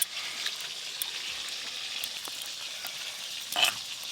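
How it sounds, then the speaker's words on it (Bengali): Pieces of sele fish fry in hot oil with a steady, soft sizzle and light crackle. Near the end there is one louder spitting burst, and no one talks. "এই মাছগুলো ভাজা করছি ঠিক সেরকম গন্ধ আসছে"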